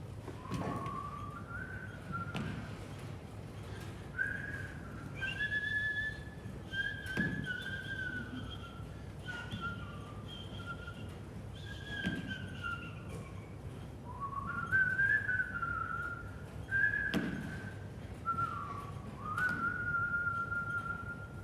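A person whistles a wandering, melodic tune in short sliding phrases, fairly soft and close, with no other sound competing.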